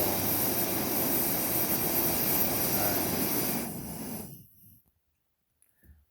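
A Primus Classic Trail butane stove burner roars close up with a steady, loud jet-like rush, then cuts off abruptly into near silence with a faint click.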